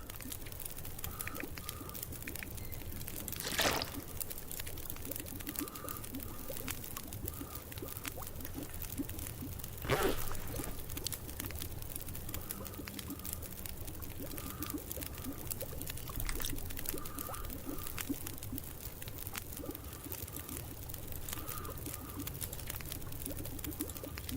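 Water pours in a steady stream for a long stretch at a low, even level, with a few brief louder splashes and faint chirping tones now and then.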